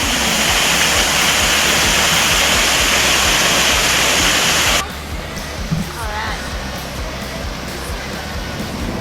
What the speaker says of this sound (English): We're sitting in behind the waterfall.